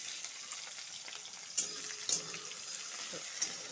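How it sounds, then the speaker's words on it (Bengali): Onions frying in hot oil in a heated wok, a steady broadband sizzle throughout with a few sharp clinks and scrapes of a utensil against the pan, close and moderately loud, no talk. "পেঁয়াজটা ভেজে নিব"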